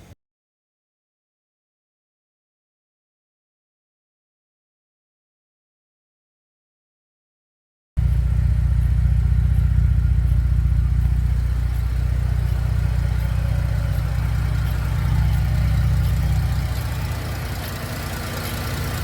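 A Holden VE SV6 wagon's 3-litre engine idles through a 64mm Australian-made 409 stainless steel twin catback exhaust with long resonators, a steady, loud low rumble that begins after a long silence and eases slightly toward the end.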